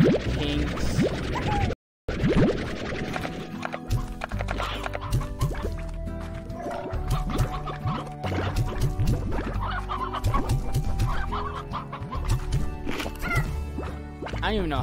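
Chickens clucking repeatedly in the video game Slime Rancher, busy overlapping clucks and squawks with other game sounds, a brief dropout early on.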